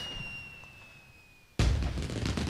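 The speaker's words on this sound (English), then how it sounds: "Ooh, look at that flare. Uh-oh, watch out. Big loud bang." A sudden, loud firework bang erupts in the Okami video game after a quiet stretch with a faint whistling tone, followed by a crackling, sizzling burst that fills the rest of the moment.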